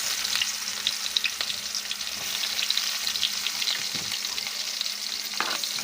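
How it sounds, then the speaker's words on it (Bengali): Chopped onions fry in oil in a wok, giving a steady, close crackling sizzle with occasional stirring scrapes and no talk. "প্রথমে দিয়ে দিলাম কড়াইতে পরিমাণ মতো তেল, তেলে দিয়ে দিলাম কেটে রাখা পেঁয়াজ।"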